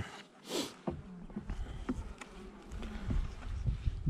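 Honey bees hum steadily at an open hive during a colony inspection, a close, continuous buzz with occasional louder passes as individual bees fly near.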